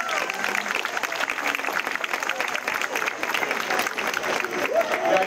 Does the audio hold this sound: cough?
no